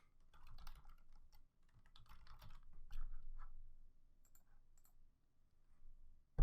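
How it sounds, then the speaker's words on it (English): Typing on a computer keyboard while making an event-themed design, with close, quiet clusters of key clicks in irregular bursts and a brief pause near the end. "What am I typing now?"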